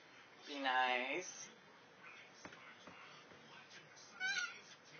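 A cat gives a clear, fairly close meow near the start and a shorter one near the end, with quiet shuffling between and faint voices around it.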